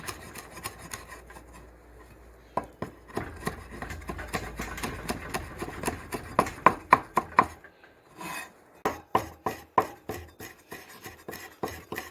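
Rapid knife chops through rosemary on a wooden board, a steady rhythmic series of close, sharp taps with a brief pause before the chopping resumes.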